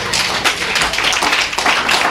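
An audience at a Dolton village meeting claps in an uneven burst of close, sharp hand claps, with no voices over it.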